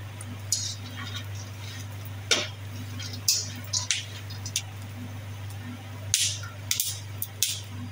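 Sporadic sharp crackles and pops from seeds roasting in a pan, irregular little bursts over a steady low hum, with no talking.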